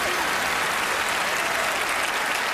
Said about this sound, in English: Another round of applause for Gianni.